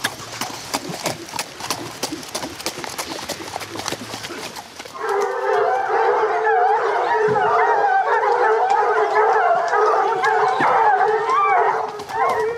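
A pack of hunting dogs bays and howls continuously while chasing game, loud and close, after several seconds of quieter rustling and footsteps outdoors.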